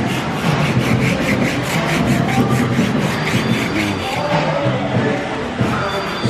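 A wooden katoua, a large cleaver-like Niue war club, is sanded by hand with steady rhythmic rubbing strokes, close and continuous, while people talk in the background.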